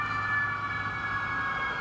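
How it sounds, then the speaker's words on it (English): An ambulance siren passes outside during an outdoor interview in Macon, a steady, loud, continuous wail that holds throughout with no one talking over it. "There's the ambulance. Can we get that in the background? At least the siren, I'm sure we did."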